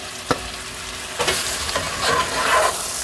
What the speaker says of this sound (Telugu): ఆ చికెన్ అంతా వేసేద్దాం. వేసి మంచిగా వేద్దాం.